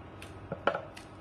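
A knife cutting daya kola, wild banana, gives a few light, sharp taps and scrapes, one slightly louder in the middle, close and quiet with no talking.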